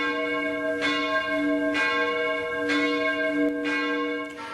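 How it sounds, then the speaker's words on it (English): Church bells pealing in Linz, Austria, a loud, ringing peal with four strong strikes spaced roughly a second apart over a sustained humming tone, no voices. "These are the church bells in the Austrian city of Linz."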